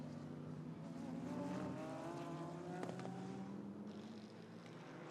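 GT race cars, including a Manthey Racing Porsche, at the Suzuka 10 Hours circuit, their engines droning together and rising in pitch as they power toward the listener, heard fairly faint and from a distance.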